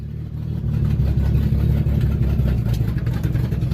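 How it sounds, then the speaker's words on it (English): A Ford Mustang engine running with a massive exhaust leak, a loud, steady, close rumbling idle with a rough low throb that holds throughout without talk. "she's got a massive exhaust leak, but she's running!"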